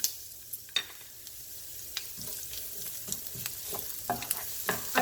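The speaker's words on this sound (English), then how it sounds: "Now I'm going to add my chopped onion" Chopped onion sautéing in a pan for kimchi fried rice, a quiet sizzle with sharp scrapes and knocks of a utensil stirring, close by and without talk.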